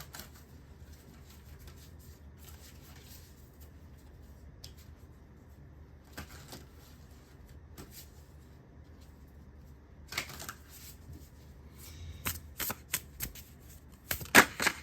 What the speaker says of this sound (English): let me shuffle the cards and see what comes out for you